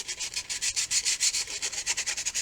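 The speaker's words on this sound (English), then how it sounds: "we're going to sand all these with the 220" Fins of an Estes Magician model rocket are sanded with 220-grit sandpaper in quick, rhythmic back-and-forth strokes that make a soft, close-up scratchy rubbing with no voices.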